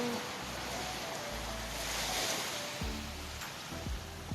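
Sea waves wash continuously along the shore at a beach in Zambales, a steady broad surf rumble with some low tonal hum mixed in, fairly quiet and with no talking.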